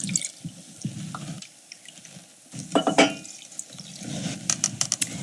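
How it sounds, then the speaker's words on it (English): Water pours into a pot for oatmeal with a brief splashing trickle and light drips, fairly quiet and close, among small kitchen clatters. "I'm going to add about 3 3/4 cups of water."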